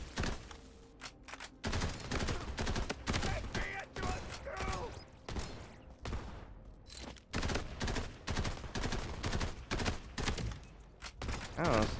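Grenade blasts in the video game Borderlands Mobile: dense, loud volleys of explosive bursts and rattling fire, nearly continuous with brief lulls, while a player talks over the action.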